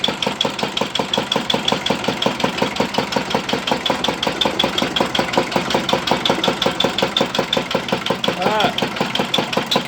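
A Peter engine powering irrigation runs with an even, rapid chugging knock that stays loud and near throughout, with a brief chirpy sound near the end.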